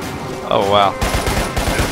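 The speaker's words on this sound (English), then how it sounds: "machine gun." Bursts of automatic machine gun fire from the video game Lost Planet: Extreme Condition, with heavy low thumps and rattling reports through the second half over a dense game soundscape, after a brief tonal effect.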